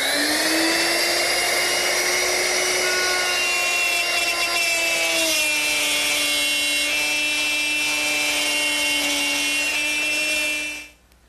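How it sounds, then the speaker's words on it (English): A router fitted with a straight cutter plows a groove in wood for a candle stand, a loud continuous high whine with steady harmonic tones that dips slightly in pitch partway through, then cuts off abruptly at the end. "Now, I'll plow a groove in and stop just a little bit short of this lip."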